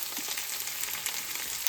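Hot peppers blister and char in a hot frying pan, giving a steady close-up sizzle with crackling pops throughout and no talking.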